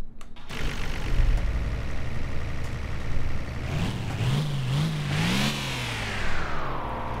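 A Nissan Stagea sport wagon engine in a driving video game rumbles at idle, then revs up and down several times in quick waves, loud and close, with no talking.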